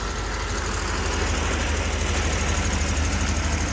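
An old vehicle engine that has not run in a long time idles while warming up, a steady, loud, continuous rumble with an even low throb and no talk over it.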